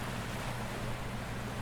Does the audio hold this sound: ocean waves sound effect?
yes